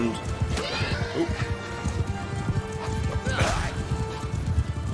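Horses charging in a Mount and Blade Bannerlord battle, with steady galloping hooves and occasional neighs amid continuous battlefield din, loud and dense throughout, while someone talks over it.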